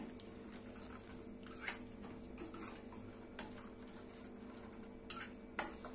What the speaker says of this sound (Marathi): याला उकळी आल्यानंतर कंटिन्युअसली याला आपल्याला ढवळत राहायचंय